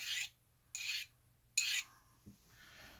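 A steel burnisher is drawn along the edge of a card scraper in three short, close rasping strokes, evenly spaced, each a bright scraping rub followed by a pause, then a faint clink and light handling.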